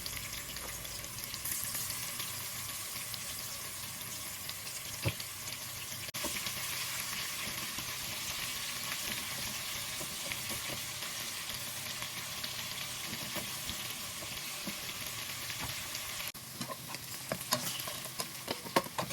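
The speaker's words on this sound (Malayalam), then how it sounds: "ഒരു പകുതി ആ മസാല തേച്ച് വെച്ചതിൻ്റെ പകുതി ചെമ്മീനെടുത്ത് ഞാനൊന്ന് വറുത്തെടുക്കുന്നുണ്ട്" Masala-coated prawns fry in ghee and sunflower oil with a continuous crackling sizzle, fairly quiet and close, with occasional stirring clicks and pops and no talk.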